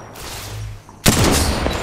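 Video game gunfire in a battle royale match: a sudden burst of loud shots erupts after a brief quieter stretch, rapid cracks crowding together near and sharp.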